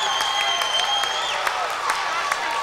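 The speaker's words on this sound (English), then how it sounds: "The Norristown faithful make it some noise, and they call a foul on Alyssa O'Donnell" A crowd at a 2008 girls' varsity high school basketball playoff game in Norristown cheers and applauds in a steady, loud roar filling the gym, with sneaker squeaks ringing out over it.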